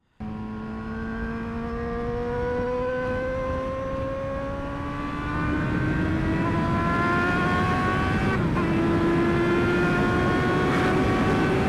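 Motorcycle engine with a full exhaust system accelerating hard, pitch climbing steadily with a gear change partway, loud and close, a slight flutter in the note at higher revs.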